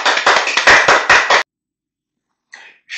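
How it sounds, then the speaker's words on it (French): A short burst of brisk clapping from a small group, loud and dense, stops abruptly, then silence before a couple of faint claps return. "On passait alors de mous applaudissements à moult applaudissements."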